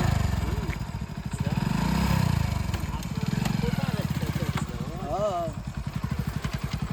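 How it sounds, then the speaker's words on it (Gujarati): A motorcycle engine starts and runs with a close, steady chugging idle throughout, people talking over it. "આ બાઈકે બંધ થઈ ગયું આ ચાલુ થઈ ગઈ"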